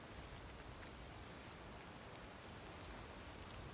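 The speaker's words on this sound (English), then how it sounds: "That rain would be heard far into the cave." Steady, dense rain falling in the stormy scene of a fan-made Avatar game, a continuous broadband hiss that stays even and close throughout, with no voices.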